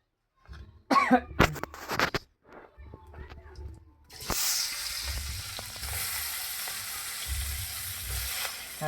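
Onions and meat fry in a dry pan without oil, giving a steady, close broadband sizzle that starts partway through, after a few coughs and throat clearing.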